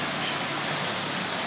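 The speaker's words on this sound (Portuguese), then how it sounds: "a chuva continua desde ontem. Chuvinha boa, não é grossa, chuva molhadeira." Light, steady rain falling at a staircase in the Brazilian Nordeste sertão after a day of continuous drizzle, a soft even hiss of fine drops with no voices.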